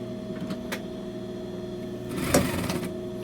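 A sewing machine hums faintly and steadily while back stitching a tailored garment, with a few light clicks and a brief rise in mechanical noise near the end.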